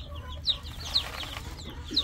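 Young chicks on a poultry setup, some sick with loose droppings, give three brief high peeping chirps spaced about half a second to a second apart, faint over a low background rumble.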